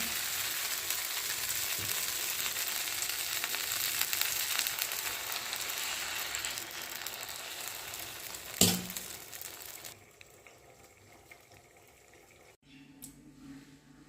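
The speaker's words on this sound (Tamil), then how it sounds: "இப்போ சாமரிசி ஆப்பம் ஊற்றிக்கலாம்" Samai millet appam batter sizzles in a hot appam pan, a close, continuous crackling hiss for about ten seconds, then a sharp clatter and a drop to quieter, intermittent sounds, with no voices.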